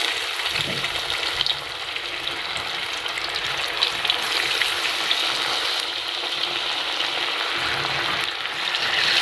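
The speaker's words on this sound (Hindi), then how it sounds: "फ़िश को फ्राई कर लूँगी" Fish pieces frying in hot oil in a kadai over low to medium heat, a steady, close, continuous sizzle and crackle that holds evenly throughout with no talking.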